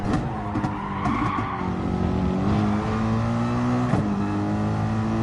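A race car in Gran Turismo Sport screams through corners, its engine droning at steady pitch while tires squeal and skid under braking, with gear and pitch shifts and no voices over the constant loud game sound.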